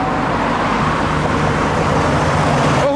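A white Toyota Chaser rolls into a tuner car meet with a loud, steady engine drone close by, carrying an even low rumble with no pause.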